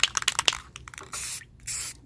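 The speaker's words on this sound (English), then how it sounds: "you're going to spray it in sections all over your water" A rattle of a spray paint can shaking and tapping, then two short hissing bursts of spray onto water for hydro dipping a tumbler, each lasting about a third of a second, close and crisp.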